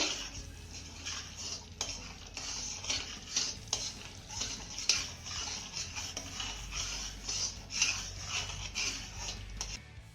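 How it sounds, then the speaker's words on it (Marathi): A spoon stirs spices into simmering tamarind chutney in a pot, giving repeated scraping and clinking strokes against the metal in an uneven rhythm over a soft bubbling sizzle. "घातलेले सगळे मसाले आपल्याला चांगले मिक्स करून घ्यायचे"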